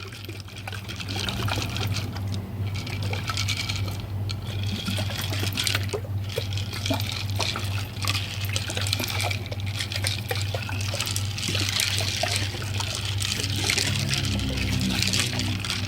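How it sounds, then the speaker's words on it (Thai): A closed bottle of honey-lemon wine with yeast is shaken, its liquid sloshing and splashing continuously and fairly evenly for about fifteen seconds, with no talking. "ในขั้นตอนนี้เราจะปิดฝาเพื่อเขย่าก่อนนะคะ"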